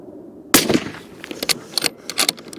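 A Sako 90 Quest rifle firing 125 grain Sierra Pro Hunter handloads over 44 grains of Vihtavuori N133 on a range: one sharp, loud report followed by its decaying echo and a few small clicks and knocks.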